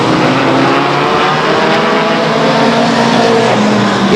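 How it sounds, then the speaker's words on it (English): Several race cars roar past the grandstand at Stockton 99 Speedway, a loud, dense engine drone with overlapping revving tones that swell and shift as the field streams by nearby. "Winiger coming by the grandstands now to complete lap number 5."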